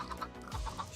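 Minecraft chickens cluck in short, soft bursts close by, alone with no talk.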